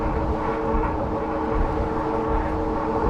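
A Bafang e-bike hub motor with a fault gives off an abnormal steady grinding whir, close and continuous with a rumbling low end and no talk over it.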